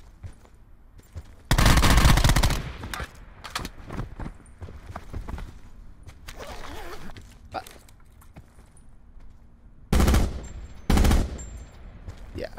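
Gunfire in Call of Duty Blackout: two loud bursts of shots, one early and two short volleys near the end, with quieter game noise and faint clatter between.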